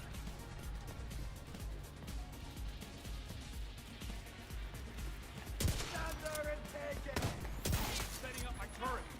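Turret gunfire in The Division 2, a dense, continuous rattle of automatic shots under busy game noise, with a few sharper, louder impacts near the end; no clear talk.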